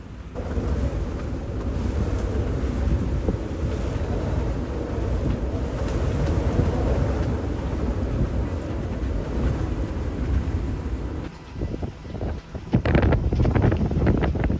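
Strong wind roars steadily over a sailboat off Corsica, a loud, constant rushing buffet on the microphone, easing briefly before gusting sharply again near the end.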